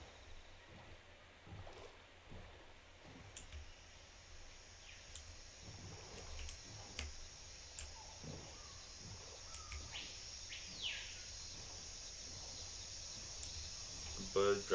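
Birds chirping in modded Minecraft, a video game: faint, scattered high chirps over a quiet watery ambience, spread across a long stretch with no voice over them.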